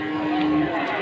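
A single Limousin cow moos close by at a cattle market, a steady, drawn-out low call.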